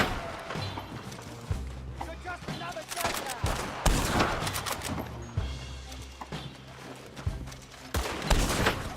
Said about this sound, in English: Maybe she's shooting from a machine gun.